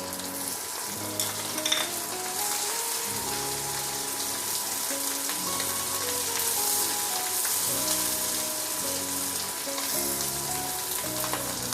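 Sliced onion fries with garlic in a hot pan, giving a steady close sizzle with occasional stirring scrapes throughout.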